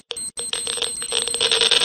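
A bright notification bell sound effect rings out in a quick run of metallic dings, loud and close, with a ringing tone that sustains between strikes.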